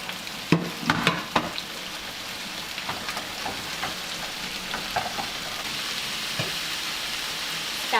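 Spices and seasoning paste frying in a pan for an Indonesian village-style dish, a steady close sizzle with a few sharp crackles and scraping stirs near the start, continuing alone.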